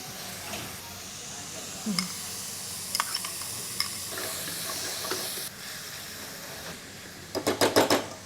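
Finely chopped tomatoes go into frying onions in a pan and get stirred, giving a steady low sizzle with scraping spoon strokes and a quick burst of rattling clatter near the end.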